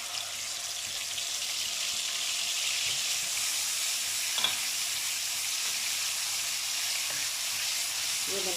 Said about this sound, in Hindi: ये मैंने इसमें लहसुन अदरक का पेस्ट डाल दिया। थोड़ा सा इसको फ्राई करूँगी।